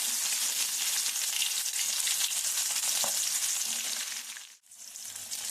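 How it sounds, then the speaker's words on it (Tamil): Crushed garlic and small shallots sautéing in hot oil with mustard seeds and urad dal hiss in a loud, continuous close sizzle with faint stirring and a brief dip near the end, no talking. "இதை நல்லா 1 நிமிஷத்துக்கு வதக்கலாங்க."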